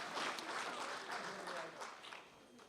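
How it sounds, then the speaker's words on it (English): Applause rises from an audience at a 2024 SS&A Ovens and Murray football league awards night, honouring monthly nominees. The clapping is broad and steady, with a voice talking over part of it. "Round of applause once again for all of our monthly nominees."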